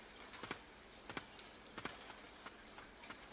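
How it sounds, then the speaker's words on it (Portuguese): Light rain in the video game Ender Lilies: Quietus of the Knights patters faintly, with scattered individual drops tapping irregularly over a soft background hiss. "Tá chovendo em todo lugar, cara."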